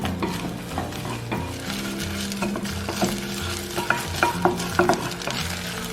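Crab sticks and egg yolks stir-fry with ginger in hot oil in a pot, giving a continuous close sizzle with frequent scraping and stirring strokes that grow sharper and louder toward the end.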